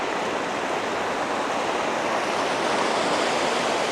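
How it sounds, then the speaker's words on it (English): A waterfall in North Wales pours in a continuous, even roar of rushing water, close and steady with no breaks and no voices. "That's a nice waterfall, that is."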